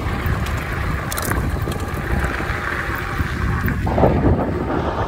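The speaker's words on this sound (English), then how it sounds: "I'm going into the wind. The wind seemed to be stronger on this side." Strong wind roars steadily across the microphone while a fat tire e-bike climbs slightly uphill into a headwind, a loud, continuous rumbling buffet with no pauses.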